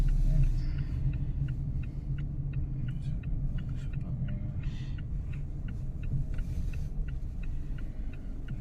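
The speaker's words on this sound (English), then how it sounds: "pull away car on the left side." A car pulls away from the curb at the start of a three-point turn, its engine a steady low rumble close by, joined by a faint regular ticking, most likely the turn signal.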